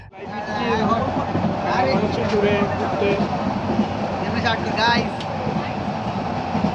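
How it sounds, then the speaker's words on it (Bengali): A train rumbles steadily close by at a station, with metallic squeals and clatter over it and a crowd of waiting passengers babbling in the background. "এটা হচ্ছে আমাদের ট্রেন"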